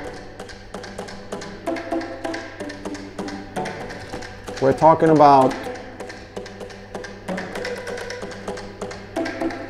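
A melody is tapped out on plastic tubes of different lengths, giving quick hollow percussive knocks in a fast steady rhythm, with a brief ringing pitched flourish midway and a voice talking over it.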